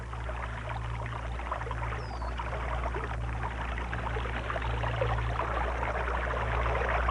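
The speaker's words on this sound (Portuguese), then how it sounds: "a água corre através de uma vala perto da outra ponta do cano" Water pours and streams steadily through a ditch above a broken beaver dam near the end of a pipe, a continuous moderate rushing flow over a low steady hum.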